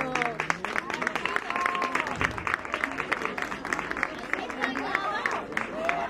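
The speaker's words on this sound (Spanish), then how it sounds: "¡Un aplauso a Paco Valiente!" Applause and cheering from an audience at a mural and awning inauguration at a senior centre in Nerva, with clapping mixed with crowd chatter and voices throughout.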